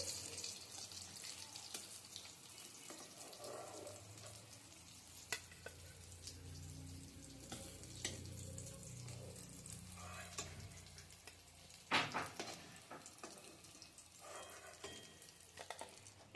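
Flattened rice and green peas snack frying in hot oil gives a soft, steady sizzle with faint bubbling and occasional clinks of a utensil, quiet throughout.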